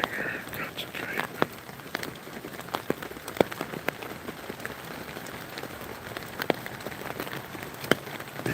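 A rainstorm in North Carolina patters on surfaces, with a soft hiss broken by scattered sharper drips and taps, fairly quiet and steady throughout.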